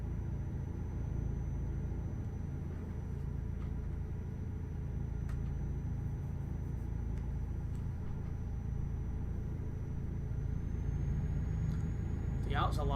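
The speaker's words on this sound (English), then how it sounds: "that was a loud car going past my house" A loud car drives past outside a house, a low rumbling engine swelling and fading behind steady background hum, with a brief whine near the end.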